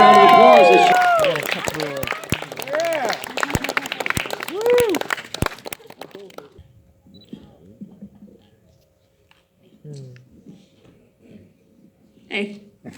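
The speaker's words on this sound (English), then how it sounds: "Let's give her a big round of applause." A crowd at the Long Island Retro Gaming Expo costume contest cheers and claps for a cosplayer dressed as Cube from Jet Set Radio Future. Excited whoops sit over sparse, sharp claps for several seconds, then the room goes quiet with brief talking.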